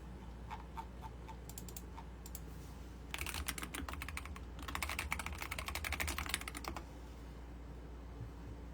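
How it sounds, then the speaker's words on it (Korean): Typing on a computer keyboard, nearby clusters of quick clicks and taps coming in bursts with short pauses, over a low steady background hum. "타자 ASMR"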